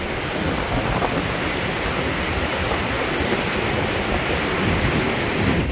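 Iguazu Falls pours with a steady, loud, close roar of falling water, a dense unbroken rush that fills the whole stretch without any voices.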